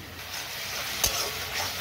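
Spice paste frying with tomato in oil for a Bengali rui fish kalia, a close continuous sizzle with stirring scrapes and one sharp spatula knock near the middle, no voices.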